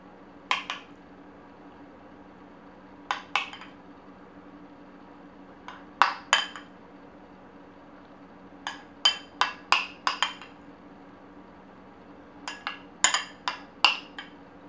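A spoon clinks repeatedly against a bowl while cheese mixture is portioned into prosciutto appetizer cups, sharp light taps in small clusters separated by pauses, over a faint steady hum.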